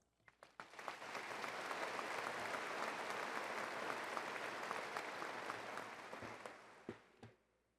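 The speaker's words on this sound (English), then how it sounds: "I think they deserve a round of applause." A commencement ceremony crowd applauds steadily for about seven seconds, dense and sustained, then thins to a few scattered claps before fading out.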